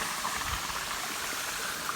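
Water rushes and splashes steadily at Walty Falls in Alabama, a continuous broadband roar heard close with no voices.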